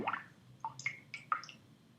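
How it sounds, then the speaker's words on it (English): An aluminum piece is lowered into water in a buoyancy lab, giving a soft splash and a few light drips and plops spread over two seconds, close and fairly quiet. "Pick this up, place it in the water,"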